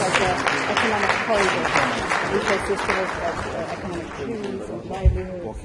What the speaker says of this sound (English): Give her a good round of applause.